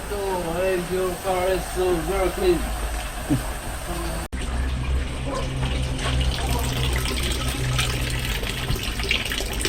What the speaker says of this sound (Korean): 이렇게 미리미리 물을 조금씩 받아두네요. 통마다.